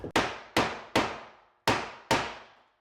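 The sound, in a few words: tapping green board into place by hammer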